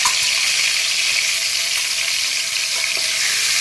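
Asafoetida goes into hot oil for a tempering in a pan for a vegetarian pointed gourd dish, giving a steady, bright, continuous sizzle up close with faint stirring.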